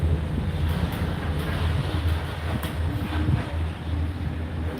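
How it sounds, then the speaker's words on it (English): Riding inside a Disney Skyliner gondola cabin at Disney's Riviera Resort on the way to Epcot, with a steady broadband rush of wind and a low mechanical rumble and hum running continuously throughout, without speech. "Welcome aboard the Disney Skyliner at Disney's Riviera Resort."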